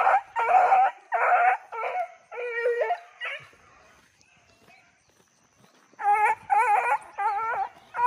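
A pack of beagle hounds bays in repeated loud, ringing bursts while chasing a deer. The cries come in clusters, fade to a quiet pause midway, then resume strongly near and clear.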